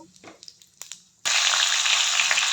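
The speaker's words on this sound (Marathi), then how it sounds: "मोहरी चांगल्या प्रकारे तडतडल्यावर त्यामध्ये मी हिंग घालते" Mustard seeds and asafoetida hit hot oil for a tempering, bursting into a loud, steady sizzle after a second of faint crackles and pops, continuing close and dense to the end.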